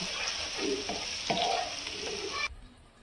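Minced mutton keema frying in oil for a curry, with a busy near sizzle and spatula scrapes for a few seconds before the sound cuts off abruptly.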